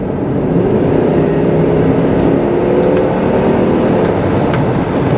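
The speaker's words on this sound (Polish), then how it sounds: "ta V8 daje o sobie znać, że jest to silnik V8" A deep, throaty V8 engine roar builds steadily as a Volkswagen Touareg 4.2 V8 accelerates in sport mode from about 80 km/h, heard close and loud from inside with no talking.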